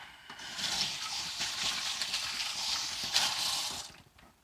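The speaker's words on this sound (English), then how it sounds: "Rinse my fingers a little bit." Fingers rinsed under a running kitchen tap while making zucchini pizza cups. Water streams steadily at close range for about four seconds and then cuts off.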